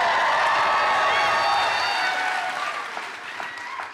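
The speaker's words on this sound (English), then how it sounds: "There's a lot of women cheering there, but not many men." An audience applauds and cheers in a loud, sustained burst of clapping with some high voices, gradually fading toward the end.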